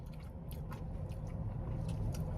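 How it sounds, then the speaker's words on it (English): Crunchy fried hot chicken is bitten and chewed up close, giving repeated crisp crackles over a steady low rumble, with no talking. "Now that chicken does have a good crunch."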